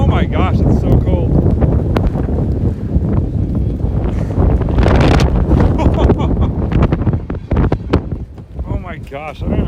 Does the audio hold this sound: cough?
no